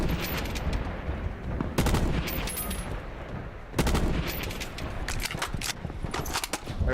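Video game gunfire crackles in repeated bursts of rapid shots, some loud close volleys and fainter distant ones, against a busy background of battle noise.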